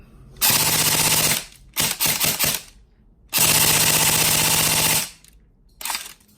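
Fast bursts of mechanical rattling buzz loudly in several separated runs from a new E&C 308 Gen2 airsoft gun, its spring releasing against the plate as it is turned, a rapid clattering release with short pauses between.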